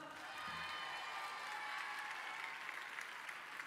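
Dense, sustained applause from a large concert audience at the Zénith d'Orléans for a singer, a steady even roar of many hands clapping heard from a distance, with faint cheering mixed in.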